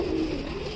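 Pigeons in a loft cooing, a short, close, low murmuring coo.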